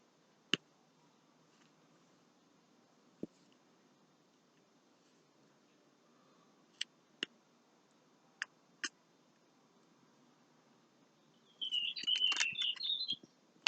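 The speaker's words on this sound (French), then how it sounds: "Ah, on est avec les petits oiseaux." Small birds chirping outdoors on a hot summer day in southern France, a quick, bright twittering burst near the end after a few isolated faint clicks in a quiet setting.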